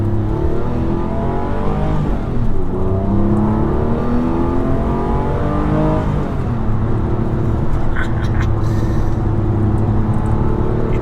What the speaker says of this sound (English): Does sound good, this car.